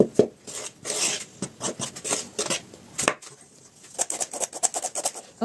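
A spoon stirs flour and packaged yeast in a bowl, giving a series of close, rhythmic scraping and rubbing strokes against the bowl with brief pauses, and no voices.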